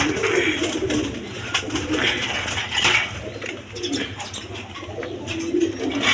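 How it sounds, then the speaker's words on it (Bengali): A pair of Mosoldom pigeons coo softly and repeatedly at close range, low rounded calls rising over a faint background of other birds and light clatter. "এইখানে এক পেয়ার মসলদম কবুতর আছে"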